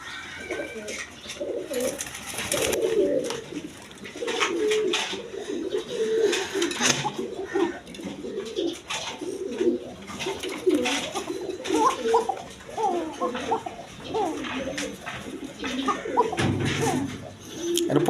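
Several pigeons cooing in overlapping low, throaty calls throughout, close by, with scattered clicks and rustling in the background.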